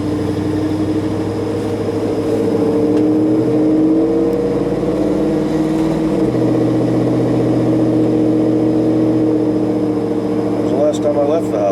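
A truck engine drones steadily while the vehicle is driven, a close, loud, continuous rumble whose pitch rises and falls with the throttle. Someone talks over it throughout.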